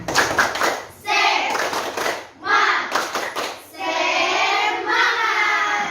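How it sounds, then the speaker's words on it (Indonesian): Schoolchildren performing a rhythmic group clapping cheer in class, with bursts of patterned claps and thumps alternating with loud children's voices chanting together. "Ayo kita tepuk semangat"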